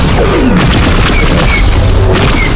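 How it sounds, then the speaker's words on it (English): A vehicle cannon in the Star Wars mode of Fortnite Creative fires, producing heavy booms and crashing impacts over a steady engine drone, with a few higher whooshing sweeps. "Just don't drive backwards when shooting the cannon."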